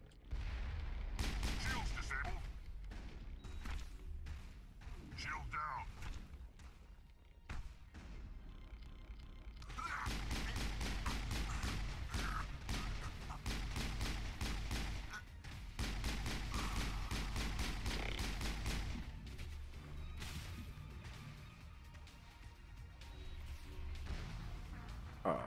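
Sniper and other gunfire from the video game Mass Effect crack and boom in rapid, dense bursts, loud and nearly continuous with short lulls, and a voice talks now and then over the battle.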